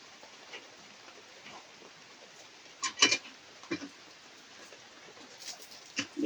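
Rain falls as a soft, steady hiss, broken by a few sharper drips and taps around the middle and end.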